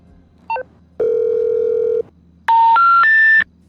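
Telephone dialing in the video game GTA Online: a short chirp, a steady one-second dial tone, then three rising keypad beeps in quick succession, clean and loud.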